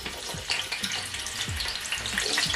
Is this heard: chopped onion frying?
yes